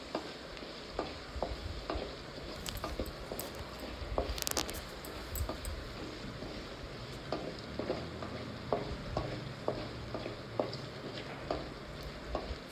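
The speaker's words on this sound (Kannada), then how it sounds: "ಫ್ರೈ ಆಗ್ತಾಯಿದೆ" Salted chopped onions sizzle steadily in a hot pan, with a soft continuous crackle and scattered light scrapes of stirring.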